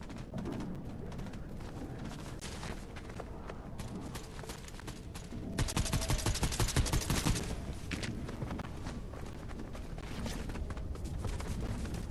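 Gunfire in the Fortnite video game, bursts of rapid shots over busy in-game action, louder and denser in the middle, with footstep-like clatter and no voices.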